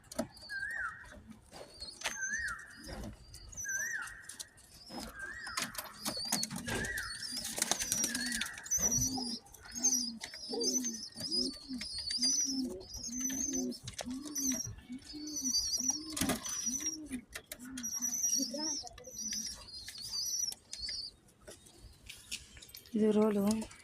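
Pigeons coo in a steady, repeated rhythm across the whole stretch, close and moderately loud, with brief wing flaps and faint squeaks in the background.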